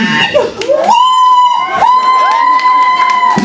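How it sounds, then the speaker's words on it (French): A loud crowd cheers and whoops with high, sustained shouts and screams, excited voices overlapping close by. "Bravo, on l'applaudit."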